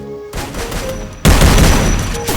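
Bursts of rapid gunfire in the Free Fire video game, with a thinner stretch of shots followed by a louder, denser volley up close.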